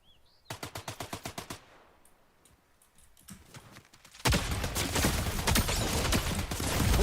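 Rapid bursts of Flex SMG gunfire in Fortnite crack out in a fast, evenly spaced string of shots, followed by a quieter pause and then a loud, dense wash of game noise.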